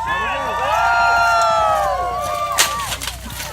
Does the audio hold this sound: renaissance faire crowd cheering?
yes